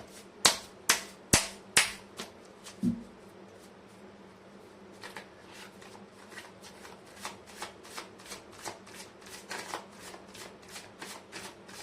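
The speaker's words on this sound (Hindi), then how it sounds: "मैं कर लेती हूँ कार्ड की शफलिंग।" Tarot cards riffle-shuffled in a few sharp, loud bursts at the start, then a long run of softer, rhythmic card flicks and slaps close by, with no talking.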